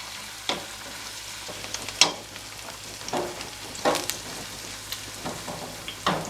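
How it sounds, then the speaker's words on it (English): Vegetables sautéing in a pan for Sicilian caponata: a continuous sizzle broken by irregular scraping stirs and clattering utensil knocks, close and fairly loud. "So now we saute it."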